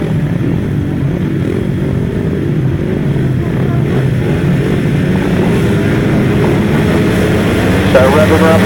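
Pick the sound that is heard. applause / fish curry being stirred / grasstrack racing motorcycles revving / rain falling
grasstrack racing motorcycles revving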